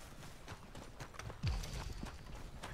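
Horses clip-clop across the ground in Red Dead Redemption, a steady run of hoof beats under a busy game soundscape, moderately loud and close.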